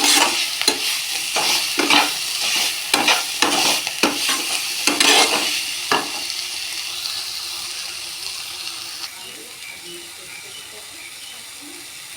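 Ivy gourd (telakucha) leaves frying in a pan while being stirred, a village-style Bengali dish; rhythmic scraping strokes over sizzling for the first half, then a quieter, fading sizzle.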